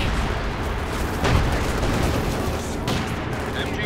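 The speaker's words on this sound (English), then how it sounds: "Light artillery barrage at your command." A light artillery barrage in the Company of Heroes 2 strategy game rumbles as a dense, continuous roar of distant explosions and gunfire, with a couple of heavier thumps and voices speaking over it.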